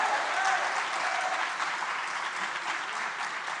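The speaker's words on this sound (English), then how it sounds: "A round of applause for them." Studio audience applause for school representatives on a national juniors quiz show, a continuous even wash of clapping, moderately loud and steady for the whole stretch.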